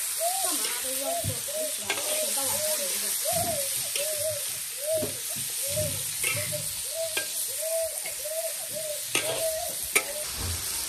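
Vegetables with cured pork frying in a pan in a rural home kitchen, a steady close sizzle that runs the whole time beneath continuous talking.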